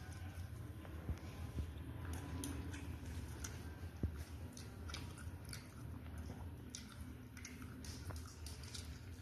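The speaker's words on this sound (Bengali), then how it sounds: "এখন আমি মাংসের ঝোল দিয়ে খাবো" Someone eating hot rice with chicken curry at close range, with soft wet chewing and small clicky bites repeating steadily throughout, no talking.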